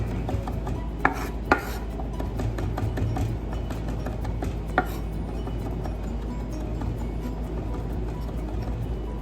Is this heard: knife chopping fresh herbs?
yes